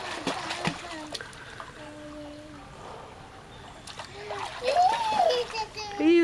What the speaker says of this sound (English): You love splashing.